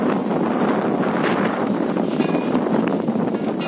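Strong wind buffets the microphone in a continuous roaring rush, loud and close, with faint rattling of tents in the background at a crowded temple gathering.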